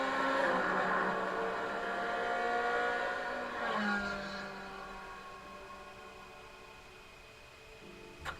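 Racing car engines in the Forza Motorsport video game roar and rev, one car sweeping past with a falling pitch, then fading into a quieter steady drone.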